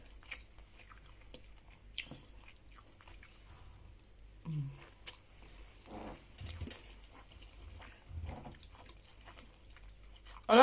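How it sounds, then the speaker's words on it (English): Someone eating juicy salmon at close range, with soft, wet chewing and occasional bites and squishes spread through a quiet room. "This is the salmon. It's very juicy."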